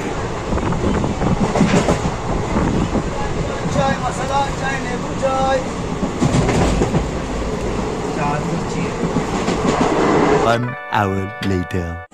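A passenger train rolls along the tracks on a night run toward Naihati station, its steady rumble loud and continuous with voices and clatter over it, before brief sharp horn-like tones near the end.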